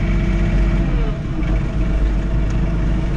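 A John Deere 3046R compact tractor running a snow blower while clearing a concrete driveway: a steady, loud, close engine drone with a low rumble and constant blower whoosh, unbroken and without talk.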